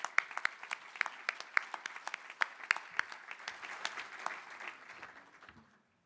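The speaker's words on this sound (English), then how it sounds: "Please give a round of applause for Doris." An audience at an awards presentation gives a round of applause, a moderate, slightly uneven patter of many hands that gradually tapers off to quiet.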